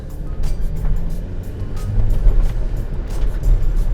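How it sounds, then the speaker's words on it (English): Engine of a turbocharged four-cylinder Mercedes Metris van accelerating, heard from inside as a loud, steady low drone and road rumble that swells slightly, with no talking. "So it's got turbo on it and it's a 4-cylinder, so it's got pretty good pickup."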